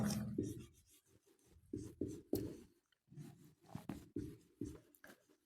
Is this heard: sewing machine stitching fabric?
no